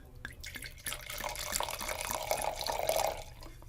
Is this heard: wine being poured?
yes